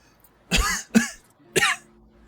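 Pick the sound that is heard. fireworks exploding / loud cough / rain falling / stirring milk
loud cough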